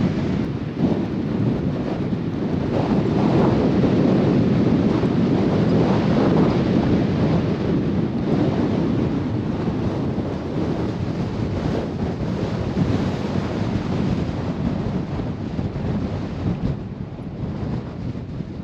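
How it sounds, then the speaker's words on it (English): Strong wind buffets a van parked in the South Dakota Badlands, a loud continuous roar with heavy rumbling gusts and steady microphone buffeting for the whole stretch, no voices. "it's time to move the van facing right into the wind to just make it less of a chance of getting blown over"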